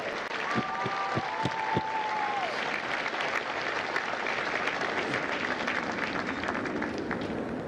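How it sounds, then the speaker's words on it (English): Sustained, dense applause from a large crowd at a Marine Corps recruit depot graduation in San Diego, honoring drill instructors, steady and full for several seconds with a few brief whistles early on. "a round of applause for the Marines that make Marines"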